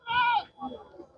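A single wavering goat bleat rings out close by at the Chattiparamba goat market, followed by people talking.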